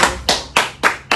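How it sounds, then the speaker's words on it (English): Four sharp, evenly spaced hand claps ring out close and loud in quick succession, like the start of a studio audience's applause on a live talk show. "Can you have a round of applause?"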